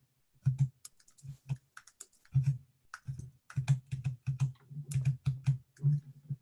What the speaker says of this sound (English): I can also use the tab key on my keyboard, and I can navigate using the keyboard